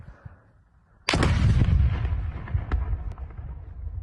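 A single loud, sharp blast of gunfire or artillery erupts after a second of quiet, followed by a long rumbling echo and a couple of faint distant pops.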